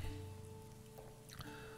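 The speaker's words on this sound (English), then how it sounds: "It's pouring rain." Steady pouring rain in the video game Dead In Vinland, a soft continuous hiss with a low game music hum underneath and a brief rise in noise near the end; no one speaks.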